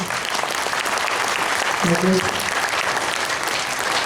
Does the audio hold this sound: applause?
yes